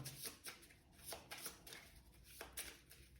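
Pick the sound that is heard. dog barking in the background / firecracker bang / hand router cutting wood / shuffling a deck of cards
shuffling a deck of cards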